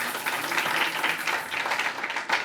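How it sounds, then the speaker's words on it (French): A church congregation at a Sunday service applauds for Jesus: dense, sustained clapping from many hands, moderately distant and fairly soft, with no voices standing out. "On acclame Jésus."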